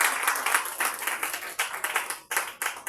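A congregation at a prayer service claps in quick rhythmic bursts, bright and close, with a few short breaks between waves of clapping.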